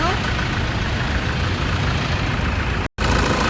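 Close by, the 3.0 D4D diesel engine of a 2014 Toyota Fortuner idles with a steady, loud low rumble and clatter, broken by one brief dropout near the end.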